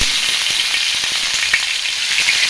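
Grated onion fries in hot oil with cumin and mustard seeds in a pan, giving a steady, close, even sizzle throughout with a few faint soft clicks and no talking.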